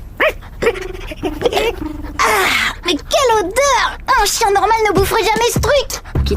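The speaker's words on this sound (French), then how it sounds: "J'ai entendu aboyer dans cette chambre." A cartoon dog barks and growls up close in loud, rough bursts in a bedroom, mixed with voices talking over the noise.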